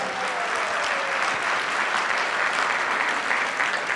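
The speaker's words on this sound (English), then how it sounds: "clap if you agree" A live audience claps steadily and loudly throughout, a dense, continuous wave of applause with no voices rising above it.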